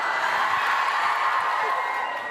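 A large crowd at a DreamSMP panel at TwitchCon Amsterdam 2022 cheers and whoops in a steady, dense roar, with scattered shouts rising over the sustained noise.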